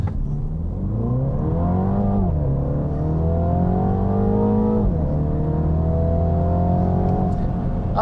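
A 2022 Mini Cooper John Cooper Works convertible launches hard under launch control, its engine note climbing steadily through two upshifts, loud and close, with no talking.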